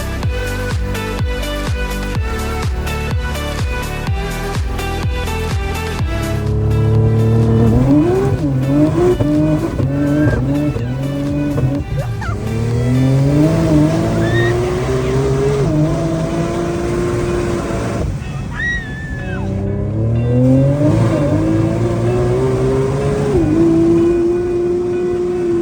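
A big-turbo street car on street tyres launches hard at a roll racing event, its engine rising through repeated loud sweeping pulls with tire squeal, close and continuous.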